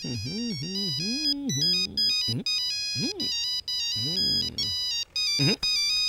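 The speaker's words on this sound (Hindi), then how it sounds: "तब से फोन की रिंग बज रही है" A melodic phone ringtone plays loud and close, its tune repeating over and over with brief pauses between phrases.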